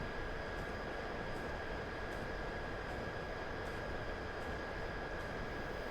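A British train runs through countryside in Train Simulator 2022 with a steady, even rumble and a high sustained whine, plus faint regular ticks like wheels passing rail joints, with no talk.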